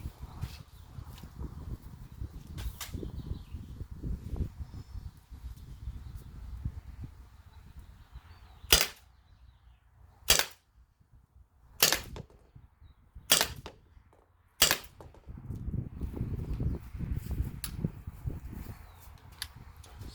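Five sharp shots from an Umarex T4E TR68 air rifle fired out of the box, spaced a second or two apart, each a crisp snap standing out against quiet outdoor background noise.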